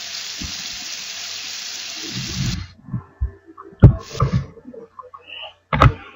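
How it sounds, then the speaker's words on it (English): Water runs steadily while rinsing hair for the first few seconds, then stops, leaving scattered splashes, drips and handling knocks nearby. "Thoroughly rinse the patient's hair"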